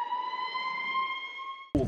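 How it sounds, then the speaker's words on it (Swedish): A steady, piercing electronic alarm tone rings continuously in an escape room, then cuts off abruptly into a burst of noise. "Jag ska ta larm här för att ingreppa."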